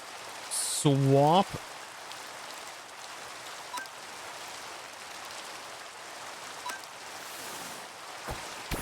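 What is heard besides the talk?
rain falling in Pokémon video game battle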